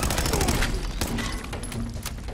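Rapid gunfire from a gun in the video game Fallout 4 crackles in a dense, continuous burst of shots, loud and close, fading slightly toward the end.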